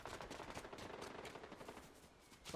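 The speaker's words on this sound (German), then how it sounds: "In meine Richtung geschossen." Rapid gunfire in the video game Fortnite, a dense, steady rattle of shots running throughout with a louder burst at the end, no talking.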